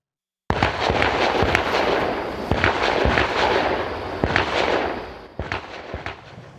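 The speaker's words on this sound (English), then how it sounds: "Law enforcement deploying stun grenades moments before that man was outside." Police stun grenades detonate during a standoff, a rapid series of loud sharp bangs echoing outdoors over a sustained rumbling wash, with a few more scattered blasts trailing off at the end.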